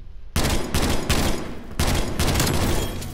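Rapid burst-fire gunshots from a weapon in the video game Call of Duty Black Ops Cold War, played in a tournament match, come as several loud, dense volleys in close succession after a brief quiet start.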